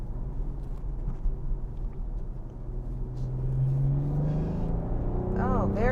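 A 2021 BMW M440i engine hums steadily at low revs, then swells and climbs in pitch after a downshift, a smooth close rising rev near the end with faint road rumble underneath.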